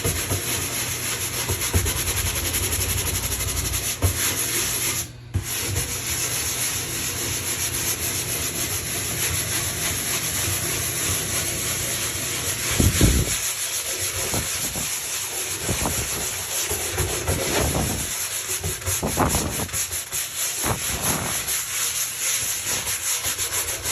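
Steady scrubbing of a wet bathtub sprinkled with cleaning powder, a continuous close rubbing and scouring that keeps on throughout, with a few brief knocks and shifts toward the end.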